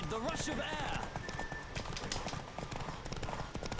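Horse hooves clip-clop steadily in The Witcher 3 during a horse race, a rapid rhythmic patter running throughout under game music and a talking voice.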